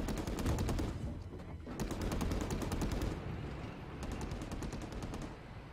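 Bursts of rapid automatic gunfire in the video game Men of War: Assault Squad 2 rattle in quick volleys, loud and continuous with brief pauses between strings of shots.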